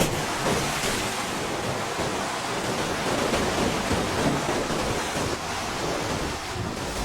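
Ocean waves break on a Galápagos shore, a loud, continuous wash of surf with rolling swells and wind buffeting, heard close and alone with no voices.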